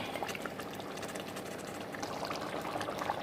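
Water poured into a pot of Tamil-style chicken gravy (kozhi kuzhambu) while it is stirred, a soft continuous splashing and bubbling pour, faint and close, with no talking.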